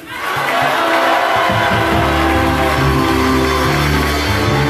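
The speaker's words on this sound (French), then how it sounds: "Maintenant ils acclament là." Loud, continuous crowd of worshippers cheering and acclaiming at a prophetic church gathering, a dense roar of massed voices sustained at full volume throughout after a brief quieter start.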